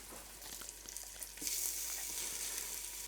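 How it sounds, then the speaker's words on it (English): Tomato puree sautéing in a pot of cooking chili gives a steady close sizzle, a few light scrapes and taps early on, then a louder, brighter hiss that holds to the end, with no talking. "I'll just saute that for a moment to get that raw tomato flavor out"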